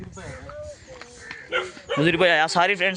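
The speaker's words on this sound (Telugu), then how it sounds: "కుక్కలు అరుస్తున్నాయి ఫ్రెండ్స్" Dogs barking and yelping outdoors beside a drumstick tree in a village field, loud overlapping yips in the latter half, mixed with a person talking throughout.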